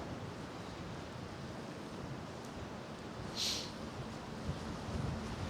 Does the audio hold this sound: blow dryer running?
no